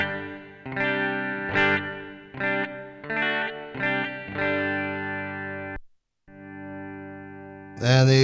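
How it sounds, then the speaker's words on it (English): Electric guitar chords and single notes through a Sonicake amp's room reverb ring out with a roomy tail, each strum decaying into the space before the next, then a final bright strum. "This first one is the room reverb."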